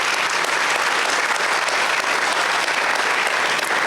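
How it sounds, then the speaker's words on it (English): An audience at a museum evening event on defending democracy gives a round of applause for the program's donors: dense, even clapping, loud and continuous throughout with no voices over it. "So big round of applause for all of those folks."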